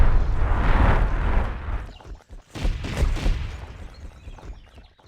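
Heavy, booming explosions and crackling blasts from Myth III: The Wolf Age attacks such as the Dwarf Molotov and White Death, rolling continuously with bursts of rapid detonations that swell and fade over several seconds.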